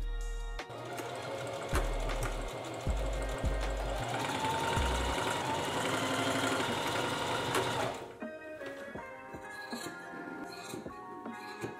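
Sewing machine stitching together separated panels of Rick Owens Bolan banana trousers to lengthen the legs, a loud, steady mechanical whir running continuously for about eight seconds before stopping, followed by quieter handling clatter.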